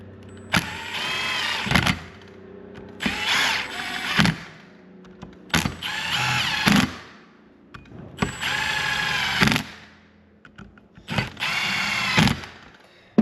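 A ratchet tightens clutch cover bolts on a P-drive primary with a Crawler 226 clutch kit, sounding in five separate bursts of rapid clicking, each cut off by a short pause.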